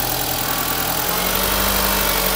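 Car engine running during a wiring connector fault test, revving as the throttle is worked: a steady, loud mechanical drone filling the whole stretch with a low hum that rises slightly partway through, no voices.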